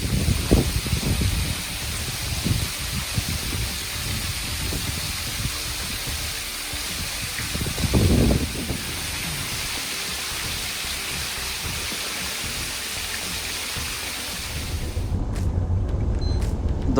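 Rain pours down steadily around a fishing spot, a broad, continuous hiss with occasional heavier thumps and rustles, close and unbroken throughout.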